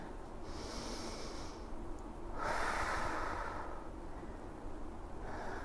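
Steady, audible breathing through a yoga flow in a lunge with the back heel lifting, long airy inhales and exhales that rise and fall over several seconds, with no speech.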